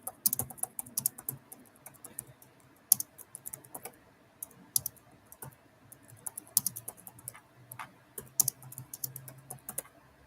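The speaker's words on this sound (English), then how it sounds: "I'm just gonna type the name of the designer so you can go look for it yourself." Steady, fairly quiet typing on a computer keyboard, a quick irregular patter of clicks with brief pauses, close by and alone with no talking.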